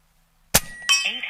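An Evanix IBEX .35 caliber air rifle is fired once at a target after a quiet moment, giving a single sharp, loud crack that is followed by a bright, ringing clang lingering for about half a second.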